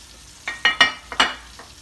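Saltfish dropped into a hot pan for ackee and saltfish, giving a few short bursts of sizzling and stirring clatter close by, spaced over about a second, with quiet between.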